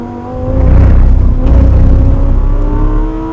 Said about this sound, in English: I need to brake, get down later, and now full throttle.